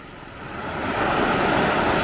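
Strong ocean waves at a beach in Pagudpud, Ilocos Norte, make a broad, continuous roar that swells louder over a couple of seconds, heard close and alone without any voices.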